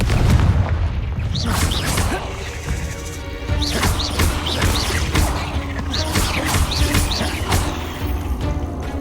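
Confringo fire spell blasts and combat impacts from Hogwarts Legacy on PS5, a dense string of loud booms, crashes and whooshing hits in rapid succession, close and forceful, with a voice speaking briefly amid the fighting.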